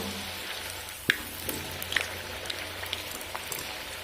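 Pieces of chatpata nasta snack frying in hot oil over a medium flame, giving a soft steady crackle with a few sharper pops and spits scattered through, no talking.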